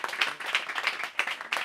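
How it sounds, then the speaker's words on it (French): A small audience at a brunch event at the Croix-Rouge Compétence in Marseille claps in brief, fairly even bursts, several hand claps in steady rhythm, close and moderately quiet. "Vous voyez que ça méritait de l'applaudir dès le début"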